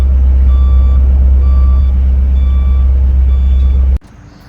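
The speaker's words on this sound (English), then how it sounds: "the flatbed is here this morning to take this car to paint" Reversing beeps from a flatbed truck arriving to haul a Porsche 944 away for paint ring out in a steady, evenly spaced series over a loud, deep engine rumble, then cut off abruptly near the end.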